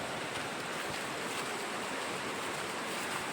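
A river in a Bhutan village rushes far below a bridge, making a steady, even wash of flowing water, soft and distant, with no voices.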